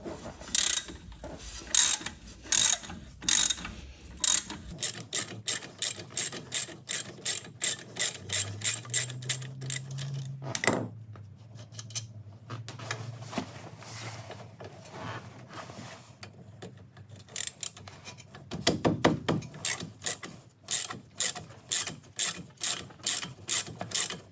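Ratchet or spanner working on the front brake caliper of a VW Golf MK7, giving rapid runs of sharp mechanical clicks in bursts with short pauses and a brief low whirring in between.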